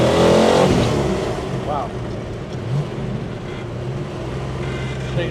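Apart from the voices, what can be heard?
1970 Dodge Challenger R/T 440 accelerating, exhaust note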